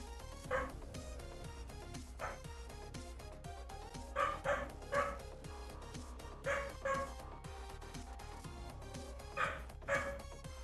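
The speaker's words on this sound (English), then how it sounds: "The dog will stop barking" A dog barks repeatedly in short bursts in the background, faint and partly suppressed, behind continuous music and game sounds on a livestream.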